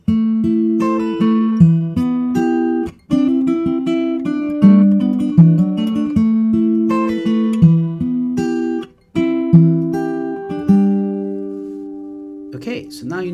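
Acoustic guitar playing the intro of a song, with clear plucked notes and ringing chords in a steady pattern, briefly cut twice before the phrase repeats.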